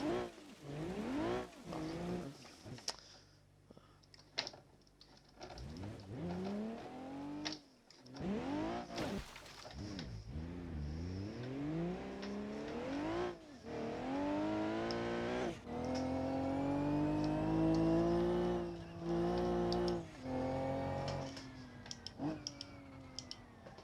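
An ETK I series car driving on a track in BeamNG.drive, its engine note rising and falling through repeated gear-like sweeps, loud and close, with brief dips and a sustained high-revving stretch near the end; no talking.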